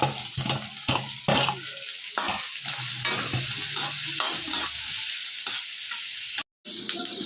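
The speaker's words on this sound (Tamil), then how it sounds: "பூண்டு கொஞ்சம் வதங்கினோடனே நம்ம எடுத்து வச்ச வெங்காயத்தை போடணும்" Onions and garlic fry in oil for an egg masala gravy, giving a close, steady sizzle with repeated scraping stirs and a short break near the end.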